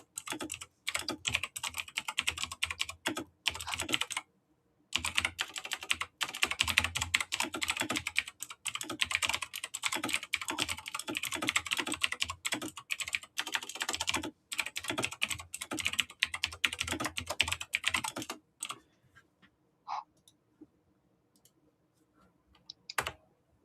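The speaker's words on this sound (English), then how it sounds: "My keyboard's not that loud." Rapid, loud computer keyboard typing runs in dense bursts for about eighteen seconds, with a short pause near five seconds, then stops, leaving near silence with a few faint clicks.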